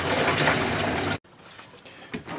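A portable washing machine rinses clothes, churning water loudly for about a second before cutting off abruptly, then leaving only faint splashes and drips.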